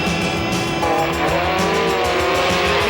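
A Grand National Sport Truck and an unlimited single-seat dune buggy race head to head off-road, with loud engines roaring continuously and tires squealing and skidding.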